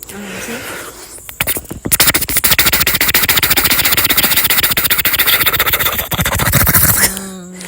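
A voice imitates a helicopter with a rapid, continuous chopping flutter for several seconds, loud and close, rough and buzzy, stopping abruptly near the end.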